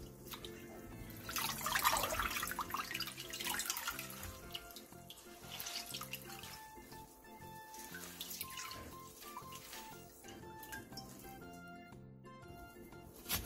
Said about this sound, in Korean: 데친 미나리는 바로 찬물에 헹군 뒤 물기를 꼭 짜주세요